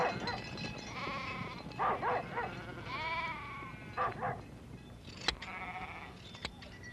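Several sheep bleat repeatedly, some nearer and some farther off, with a few sharp knocks and a faint background murmur.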